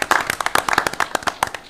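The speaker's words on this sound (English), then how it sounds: "Let's give them a round of applause." A small group at a county commission meeting claps for the Public Works staff: close, sharp, irregular hand claps that spread into a brief, uneven round lasting under two seconds.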